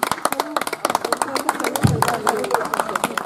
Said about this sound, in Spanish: Un aplauso para el pico.